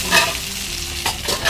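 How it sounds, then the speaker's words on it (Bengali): Pointed gourd (potol) frying in hot oil while being stirred, a close loud sizzle with scraping stirring strokes over it, brief and with no voices. "তেলটা মোটামুটি ভাজা হয়ে গেছে, একটু বেশি লাল করবো না"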